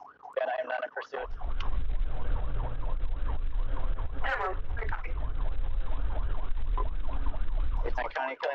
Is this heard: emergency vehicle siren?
yes